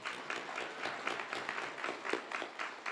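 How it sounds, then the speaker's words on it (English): A school mock-election rally crowd claps for Gwen Walls, a steady dense patter of many hands that carries on with no talk over it. "I would just really appreciate it if we could get another big round of applause for Gwen Walls."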